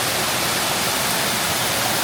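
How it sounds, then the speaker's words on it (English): Small indoor waterfall spilling into a shallow stream inside a Bass Pro Shops store, a steady close rush of splashing water with no voices. "This is a little water stream with a waterfall flowing in here"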